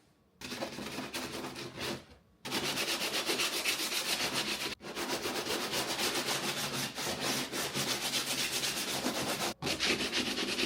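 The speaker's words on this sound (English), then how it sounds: "I might sand it down a little bit actually before we get to painting" Sandpaper rubs over a bumpy glued surface in an apartment, making loud, continuous scratchy strokes broken by a few brief pauses.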